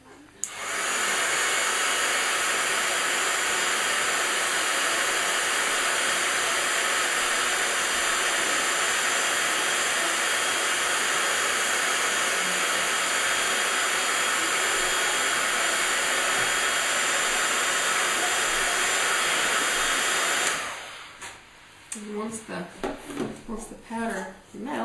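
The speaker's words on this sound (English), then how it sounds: "If we use the heat gun, it'll melt the powder. It's going to be a bit noisy though." Heat gun blasting hot air to melt embossing powder on a stamped card, a loud, steady roaring hiss that runs for about twenty seconds close up, then cuts off, followed by a few soft handling sounds.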